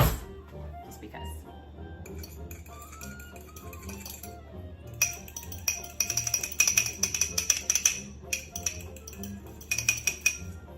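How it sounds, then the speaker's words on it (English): A fork whisks egg in a bowl in a home kitchen. It gives quick bursts of light clinking against the dish, faint at first and then in busy rapid runs, with quiet pauses between them. "Whisking time. I'm gonna use just a fork."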